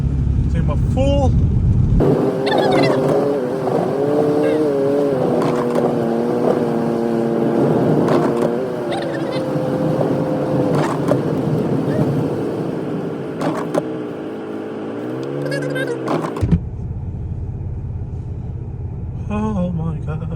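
A car engine revs hard with wheels spinning and slipping in snow during a Michigan snowstorm, a steady droning whine with rising and falling pitch sweeps, loud and close, while people talk over it before the engine cuts off abruptly.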